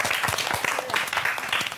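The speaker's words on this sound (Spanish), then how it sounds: "Vamos a darle un aplauso." An audience on a Spanish-language talent show applauds a young performer, a loud, close wash of many clapping hands with a few sharper individual claps standing out, sustained for just under two seconds.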